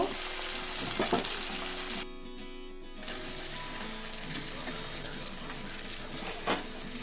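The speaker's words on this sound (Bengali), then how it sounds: "পেঁয়াজগুলো লাল লাল করে ভেজে নেব" Chopped onions fry until reddish in a pan for a bhetki fish dish, a steady close sizzle with a brief drop partway through and an occasional clink of a utensil.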